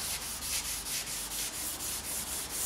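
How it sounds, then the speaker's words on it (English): A scouring pad scrubs build-up off a lathe in steady back-and-forth strokes, a close, even rasping hiss pulsing about four times a second with no talk over it. "a scouring pad will remove most of it"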